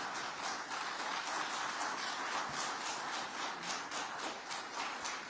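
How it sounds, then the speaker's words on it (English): Sustained applause from a crowd at a Ghanaian political address, dense and even clapping with a steady rhythmic texture throughout, moderately distant and without speech. "please let the applause be louder for the man of vision and integrity and the man of the moment"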